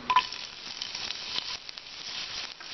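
A bay leaf sizzles in two tablespoons of hot mustard oil for a tempering, giving a soft, steady close crackle with a few small pops and no talking.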